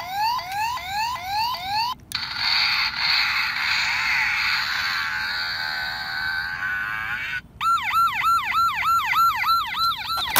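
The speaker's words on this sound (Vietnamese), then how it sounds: "Xe mô tô cảnh sát các em nhé." Police motorcycle siren from a vehicle repair video game: electronic sirens cycle through rapid rising sweeps, a long steady wail, then fast yelping warbles, loud and synthetic with no talking.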